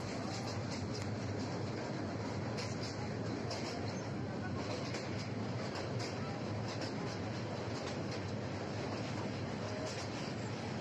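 A train rolls slowly across the Jamuna bridge, recorded from on board as a steady, dense rumble with faint rhythmic clatter that stays constant for the whole stretch, with no talk.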